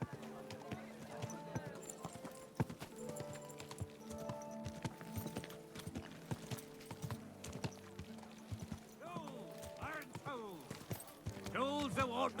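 Rapid hoofbeats of a galloping horse in Kingdom Come: Deliverance II drum along steadily beneath a synthetic, game-like soundtrack, with voices and a brief horse whinny near the end.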